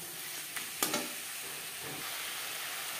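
Ginger paste, green chilli paste and salt are stirred together in a sizzling pan for a Bele fish curry, with a few sharp spoon scrapes over a steady close frying hiss.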